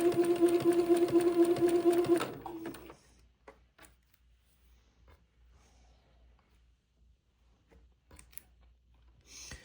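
A sewing machine zigzag-stitches lace to Swiss insertion for a French Acadian sundress, running fast and steady for about two seconds before stopping abruptly, followed by near silence with faint scattered clicks.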